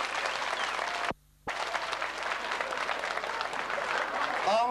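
Festival audience applauding steadily at a town culture and arts event in Güzelbeyli, dense clapping throughout with a short dropout near the middle, loud and close.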